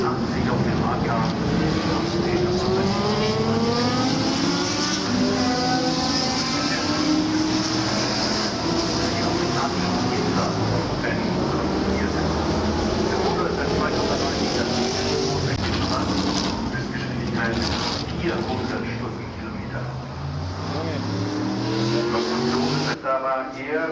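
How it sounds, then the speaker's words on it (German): Porsche 962 race car at the Nürburgring Oldtimer Grand Prix, engine note rising and falling through gear changes with tire squeal, loud and close, while a commentator speaks in German over it. "Klaus Abel mit diesem Porsche 962 der 1984 auf den Markt kam"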